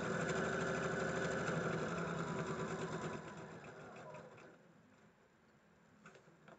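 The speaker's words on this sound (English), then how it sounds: "Your machine can do like a couple of stitches without anything under it" A sewing machine runs a fast, even stitching rattle close by for about three seconds. It then slows and fades into a quieter whir with faint clicks.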